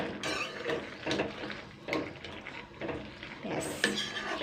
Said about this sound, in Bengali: একটু নেড়ে দেবো এইবারে হালকা করে